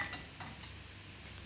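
Chilli flakes sizzle in hot oil in a pan while being stirred, a quiet continuous hiss broken by a few soft scraping strokes.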